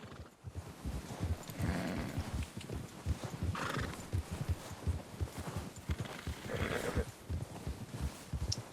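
Hooves of a white Arabian horse clip-clop steadily throughout in Red Dead Redemption 2, with neighs and whinnies rising over the rhythmic footfalls at moderate volume.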